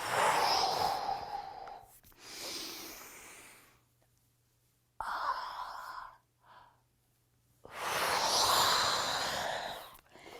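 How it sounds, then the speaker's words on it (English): Deep breaths during a Pilates stretch: several long, loud exhalations and inhalations in slow rhythm, close to the microphone, with pauses of near silence between them. "I want to hear you breathing out as you're coming down."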